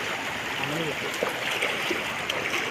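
Fast-flowing floodwater rushes past a broken road, a loud, continuous broadband roar of churning current heard close and unbroken from start to finish.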